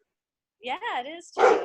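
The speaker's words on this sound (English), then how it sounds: "Hey, is that the dog?" A dog gives a few short, yelping barks close by, partly overlapping with a person speaking in a quiet indoor room.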